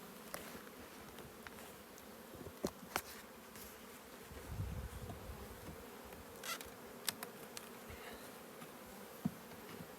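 Honeybees buzz around a hive colony recovering from chalk brood during late July winter feed preparation, a faint continuous hum with occasional louder passes of single bees close by.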